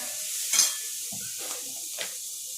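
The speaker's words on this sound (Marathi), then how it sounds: "आता आपण टोमॅटो ॲड करूया याच्यामध्ये." Tomatoes dropped into a hot pan for misal, a soft sizzle running throughout with a few brief stirring scrapes and clinks at close range, no one talking.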